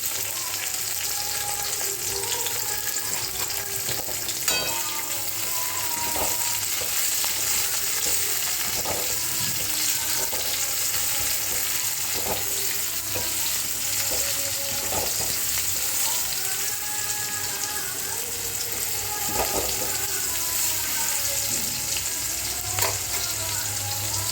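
Tomato frying in a pan for a Bengali pomfret fish curry, giving a steady, loud sizzle throughout with occasional stirring clatters and scrapes and no talking.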